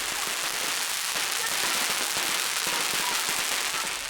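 Fireworks and firecrackers crackling nonstop on a fire dragon carried by runners at a traditional festival, a dense, loud hiss and spatter of bursts throughout.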